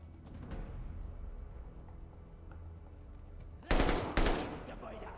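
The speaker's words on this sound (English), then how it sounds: "That's a shotgun." Shotgun fire in Call of Duty: Vanguard: two loud, close blasts in quick succession near the end, each with a decaying tail, following a stretch of low rumbling game ambience.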